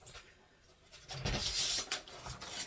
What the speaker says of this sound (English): yes, that was the sound of crutches.